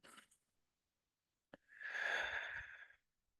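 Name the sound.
deep breath in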